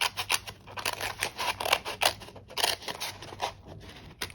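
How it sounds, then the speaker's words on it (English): Scissors snipping open a paper envelope across the top, a quick run of crisp, close clicks and cuts in an irregular rhythm. "I'm just going to cut this open right up at the top."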